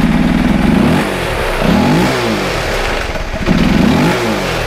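Motorcycle engine with a faulty balancer, running close and loud in repeated revving surges with rough, clattering vibration throughout; no voices.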